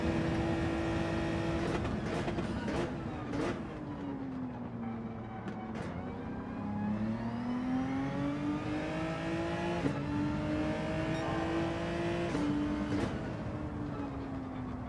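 Race car engine in Gran Turismo 7 driven hard on track, steady loud drone with rising and falling revs and sharp drops at gear shifts throughout, no talk.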